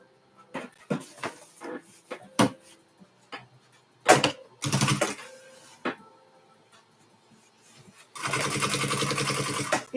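Sewing machine stitching fabric with binding in a home sewing room: scattered short mechanical bursts and clunks at first, then a sustained loud whirring run of stitching near the end.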